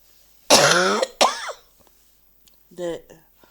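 Two harsh coughs close to the mic, then a short silence and a third, softer throat-clearing cough.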